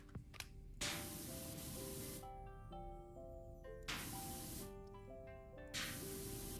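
A pressure washer sprays soap in the Powerwash Simulator video game, three long hissing bursts separated by short pauses, loud and close with no talk over it.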